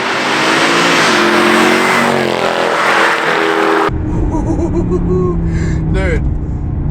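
A German car's V8 engine roars loudly as it accelerates, its pitch climbing, then the sound shifts abruptly to a deeper, muffled rumble.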